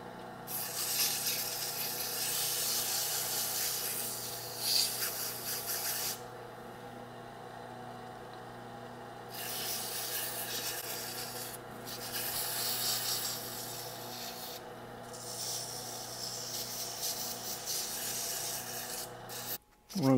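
A wooden bottle stopper spinning on a lathe is sanded with oiled sandpaper, giving a steady close rubbing rasp over a low motor hum, with brief pauses as the paper lifts off.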